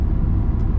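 A 1994 Chevy Silverado with an LS engine swap rolls through a turnaround in an open lot, its engine giving a steady, loud low rumble close by, with brief hissy bursts near the end.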